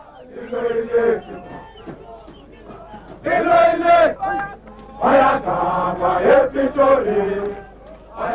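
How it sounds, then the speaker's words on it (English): A huge crowd of about 70,000 celebrates at a 1989 African National Congress rally in Soweto's football stadium, with loud massed chanting and singing that rises in surging waves and falls between bursts. "There was also some more joyous celebration as buses took the crowds to a rally organized by the African National Congress"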